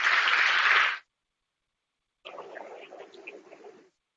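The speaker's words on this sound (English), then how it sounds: "let's have a round of applause for these guys" Audience applause at a conference opening plenary: a short burst of clapping about a second long, then a pause and a second, softer round of scattered claps, heard at moderate distance.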